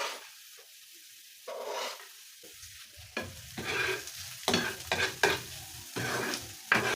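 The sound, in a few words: garlic and red onion sizzling, stirred in a pan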